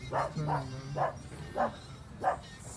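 At a dog park split into small and large dog sides, a dog barks five times in a steady rhythm about half a second apart, moderately close, with a low background hum underneath.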